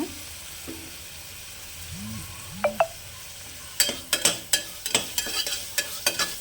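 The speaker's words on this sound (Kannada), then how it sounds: "ಇದಕ್ಕೆ ಈಗ 1 ಟೊಮೊಟೊನ ಚಿಕ್ಕದಾಗಿ ಕಟ್ ಮಾಡಿ ಹಾಕ್ಕೊಳ್ಳೋಣ. ಅದು ಸಾಫ್ಟ್ ಆಗೋವರೆಗೂ ಬೇಯೋಕ್ಕಿಡೋಣ." Chopped tomato frying in a pan for egg biryani: a quiet low sizzle, then a run of sharp, rhythmic spoon clatters against the pan as it is stirred, with no voices.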